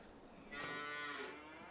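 Cattle in a Farming Simulator 22 vintage farm game let out a single drawn-out moo, fairly clear and sustained for about a second over quiet ambient background.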